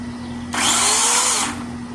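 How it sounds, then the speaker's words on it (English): A 16-inch electric Remington chainsaw whirs up abruptly to a loud, high buzzing whine for about a second, then cuts off, leaving a low steady hum. "So I only have one chainsaw. And we're going to see if it works."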